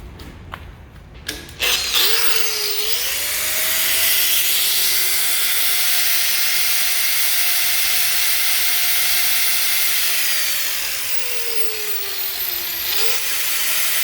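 Power tool grinding to round off the corner of a metal bar for a CB antenna mount, a loud sustained whine that holds steady for about ten seconds after a brief start-up, close and alone.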